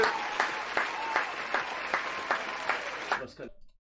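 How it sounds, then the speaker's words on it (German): Studio audience applause greeting a co-commentator on a German reaction show, brisk and dense with rhythmic accented claps, then cutting off abruptly into silence near the end. "Bitte jetzt nicht mehr klatschen."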